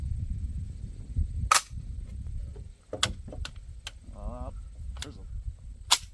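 Airsoft MP5 SD, an SP5L converted to MP5 SD configuration, firing several sharp single shots spaced irregularly, fairly close, over a low background rumble, with a brief voice partway through.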